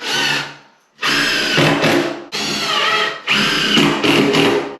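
A power drill drives screws into cabin flooring in three loud, close whirring bursts of a second or so each, separated by brief pauses, with no talking.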